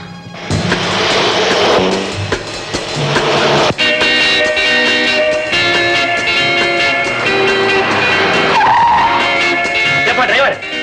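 A car screeches to a sudden stop with loud, drawn-out tire squeal and skidding in an old Tamil film scene, the engine roaring close by and music playing underneath.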